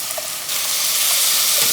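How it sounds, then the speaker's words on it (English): Water hits a hot pan with a loud, steady sizzling hiss that swells after a brief moment and keeps going. "Add a little bit of water."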